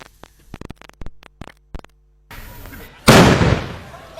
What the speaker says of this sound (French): Des coups de feu intermittents, comme pour secouer la torpeur matinale.